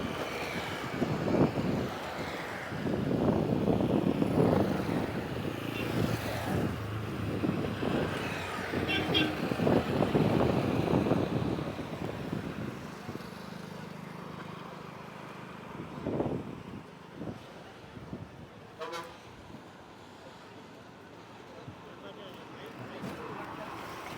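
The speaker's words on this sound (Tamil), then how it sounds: "நாற்பத்தி ஏழுலேருந்து ஐம்பது கிலோமீட்டர் வரைக்கும் இன்றைக்கி காற்று அவ்வளோ வேகமாக வீசுது" Strong gusts of around 47 to 50 km/h roar across the newly built Pamban sea bridge, a rumbling, buffeting rush that swells loud early then eases, with someone talking over it.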